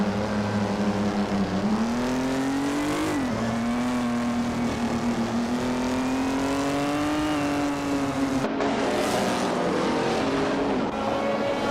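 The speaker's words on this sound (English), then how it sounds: "Bot the Grand Enchanter is driving a 1958 Lotus 12, an iconic car known for its lightweight and agile design." Engine of a 1958 Lotus 12 race car in a racing game, a loud, close steady high-revving drone that rises and dips with gear changes and throttle, with a sharp shift near the end.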